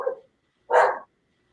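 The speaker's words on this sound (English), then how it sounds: "He's a guard dog." A guard dog barks twice, a short softer woof followed by a louder, fuller bark, close by with silence after.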